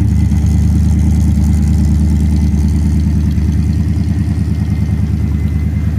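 A 350 small block Chevrolet V8 runs in a fifties pickup truck fitted with a Firebird or Camaro subframe, idling loud and close with a steady low throbbing rumble throughout.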